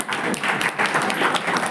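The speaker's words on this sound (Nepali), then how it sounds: "त्यो हेल्थलाई राम्रो ताली बजाउनुपर्छ" An audience claps together at a PABSON school program, a dense, continuous patter of many hands at close range with no break.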